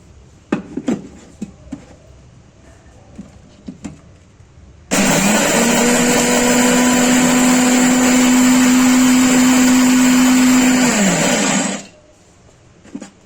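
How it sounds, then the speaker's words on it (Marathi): A kitchen mixer grinder roars at full speed for several seconds grinding peanuts, with a steady high whine, loud and close, then winds down, after some light clatter. "आता मी काढते मिक्सरमध्ये."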